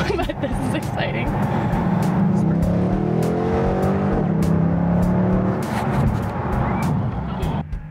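A car pulls up with a steady engine drone and rising gliding tones, close and loud, running continuously with faint voices in the background.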